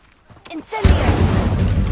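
The Incendio fire spell bursts out in Hogwarts Legacy with a sudden loud whoosh of flame that keeps roaring to the end, following a moment of quieter game sounds and voice.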